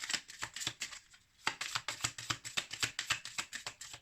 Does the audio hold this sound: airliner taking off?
no